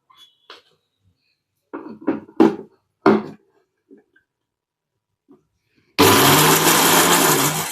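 A mixer grinder spins roasted spices in a dry jar, a loud harsh whirring burst that starts abruptly near the end after scattered quiet clinks and handling sounds, with no talk.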